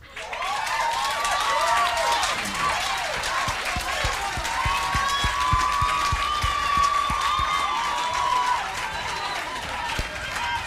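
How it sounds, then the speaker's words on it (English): Audience at a leadership and debate event breaking into sustained applause after a speech, a steady wash of many hands clapping with scattered cheers and voices mixed in throughout. "Give them another round of applause, please."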